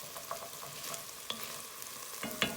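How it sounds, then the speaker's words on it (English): Lentil soup pot on the stove being deglazed with tomato juice, a quiet steady sizzle with scattered crackles and a couple of stirring scrapes near the end. "So I added a little more of the tomato juice, just so that I can kind of deglaze this a little bit more, get off those yummy bits on the bottom"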